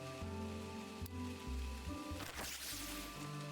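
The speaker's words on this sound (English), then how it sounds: "I keep on wanting to water, but the rain's happening, so." Rain falls steadily in the video game Hello Kitty Island Adventure, a continuous hiss of drops under soft, shifting musical tones and a low background drone.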